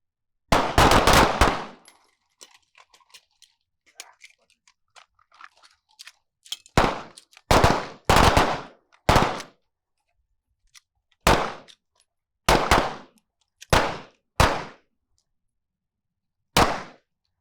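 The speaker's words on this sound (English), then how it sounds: "deliver one more round to the H circle" Handgun shots fired one-handed on a shooting range during a malfunction-clearing drill, a quick burst of several shots and then single sharp reports spaced a second or two apart, loud and close.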